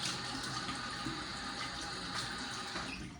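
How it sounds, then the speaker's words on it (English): Hot and cold water runs from a tap into a bathroom sink during a wet shave, a steady continuous close-up splashing rush. "I did a little hot water, a little cold water"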